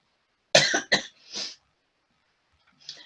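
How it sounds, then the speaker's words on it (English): Two sharp coughs in quick succession from someone with hay fever, then a short breathy throat-clearing sound, followed by silence and a faint exhale at the end. "I'm sorry about my cough."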